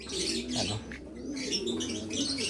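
Racing pigeons cooing close by in a soft, low, rolling murmur, with faint chirps and small rustles around them.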